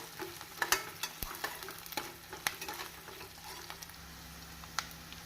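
Ground masala sautéed with onions in a pan for mutton kuzhambu, a soft sizzle broken by scraping stirs and spoon taps at irregular intervals, close and fairly quiet with no talking.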